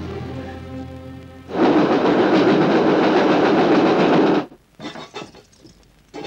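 A train runs along the rails in a Hindi film scene. After a tonal passage, a loud, dense rumble of wheels on track rolls steadily for about three seconds, then cuts to a quieter stretch with scattered knocks.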